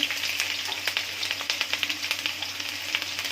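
Chopped garlic and onion fry in oil in a pan for a Malabar spinach stir-fry, a steady crackling sizzle with dense little pops throughout and no talking.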